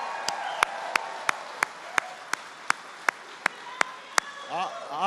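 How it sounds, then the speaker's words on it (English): A few isolated claps ring out at a steady, evenly spaced rhythm in a large convention hall at a veterans' gathering, sharp and separate rather than a full ovation, with a faint voice entering near the end. "Give Bobby a big round of applause"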